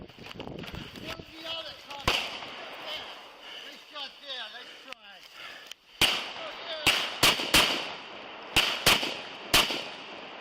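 Several sharp police gunshots crack in a quick irregular volley, following a stretch of voices and commotion, during a confrontation with a suspect holding a replica gun.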